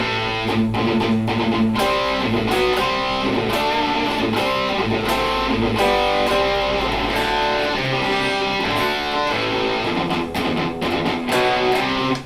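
An overdriven electric guitar through a modeled Marshall JCM800 amp with EQ off plays a tight, chugging riff with sustained distorted chords, loud and continuous with no voices.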